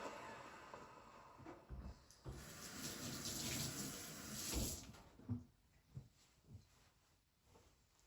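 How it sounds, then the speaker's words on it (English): A Breville Barista Pro espresso machine purges water through its group head for a few seconds, a steady hissing rush of water that then tapers into faint trickles and drips. "So a purge is basically you just turn it on for 3 seconds, just to make sure it pushes some water through the holes."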